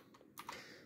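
A few quick keystrokes on a computer keyboard enter a password, faint and close, in a short uneven cluster without talk.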